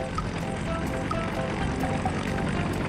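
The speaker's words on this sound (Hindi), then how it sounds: "हेलीकॉप्टर के पंख घूमने लगे।" Helicopter rotor blades spin up with a steady, moderately loud whirring and engine drone that holds constant throughout, without voices.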